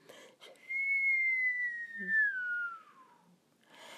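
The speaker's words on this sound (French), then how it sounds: "Elle entendit un sifflement" A single long, clear whistle that slowly glides downward in pitch over about three seconds, with brief soft noises before and after.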